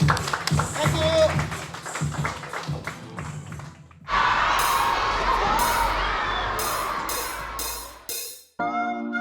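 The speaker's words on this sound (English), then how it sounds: "Give a round of applause to them." Audience applause and cheering from a crowd at a music event erupts after talk and rhythmic tapping, a broad, loud wash of clapping with shouts that holds steady for several seconds before cutting off.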